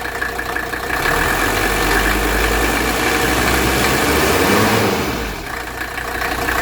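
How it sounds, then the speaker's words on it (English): A 1982 Mercedes 300SD with the 617 diesel engine idles smoothly, a loud, steady, close rumble that eases slightly near the end before picking back up. "Look how smooth this idle is."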